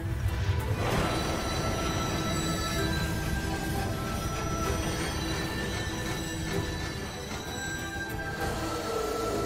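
A war train in the video game Bayonetta 3 rumbles along with metallic squealing and screeching tones over a dense, loud mechanical roar that holds steady throughout, with no talking.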